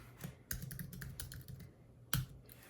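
Fingers tap the touchscreen of a Brother SE1900 embroidery machine to type text, producing a run of light, close clicks in irregular rhythm with two sharper taps near the start and end.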